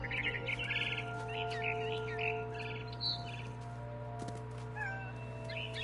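A barn swallow chirps in quick, bright bursts near a window in What Remains of Edith Finch, repeated twittering over a steady low hum with no talk.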